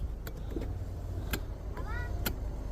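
A power window motor whirs briefly inside a Hummer H3 parked at a car market, amid faint clicks and background noise, with a few short squeaks and distant voices around it.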